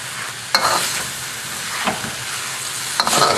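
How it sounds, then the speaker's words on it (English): Wedge-cut onions sizzle steadily in a hot wok with Thai curried eel, with a few sharp scraping stirs of a utensil against the metal over the continuous frying hiss. "we're going to add some onions. regular cut wedge onions"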